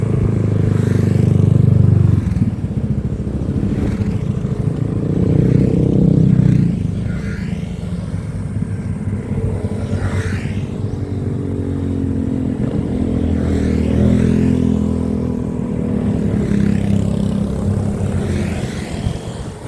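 Motorcycle riding along a road, a steady low engine drone with swelling and easing revs, wind buffeting and occasional rattles, close and continuous with no talk.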